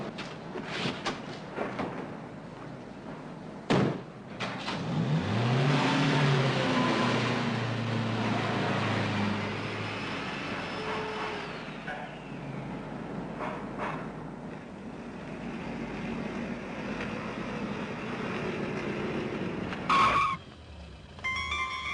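A car accelerates with a sustained, rising engine roar and tyre noise lasting many seconds, punctuated by a thud at the start and another near the end, with no talking.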